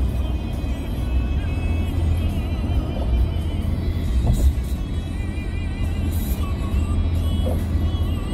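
A car rolls along the road toward Sokcho with a steady low engine rumble and tyre drone heard from inside the cabin, continuous and even throughout.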